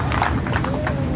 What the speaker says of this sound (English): Nice round of applause for Ashley Scott and the number 7.